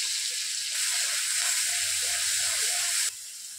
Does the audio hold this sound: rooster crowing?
no